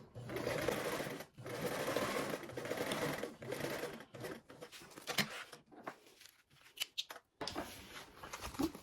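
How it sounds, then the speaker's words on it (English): A sewing machine running in bursts as it stitches reinforcing lines across seams, with short pauses and handling noises between runs, some faint talk in the background. "I'm just like making a few reinforcing stitches across my stitch lines."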